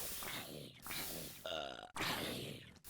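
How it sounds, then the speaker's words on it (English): Creatures in the Minecraft video game burp loudly several times in quick succession, with gruff, grunting tones, close and prominent. "Oh, and they're just burping."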